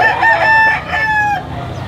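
A gamefowl rooster at an auction crows loudly and close, one full drawn-out cock-a-doodle-doo lasting under two seconds, with faint background noise.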